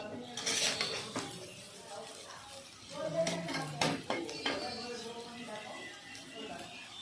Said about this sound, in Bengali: হলুদ গুঁড়ো দিয়ে ভালো করে নাড়াচাড়া করে নিয়েছি